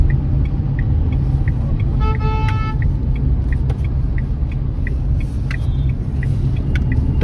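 A small Renault car drives and turns with a steady, loud engine and road rumble heard from inside the cabin. Light ticks repeat at regular intervals throughout.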